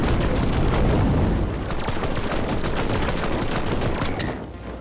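Gunfire in the Nova Lands video game: dense, rapid bursts of shots and booms pile up loud and close for several seconds, then thin out toward the end, with no talk over them.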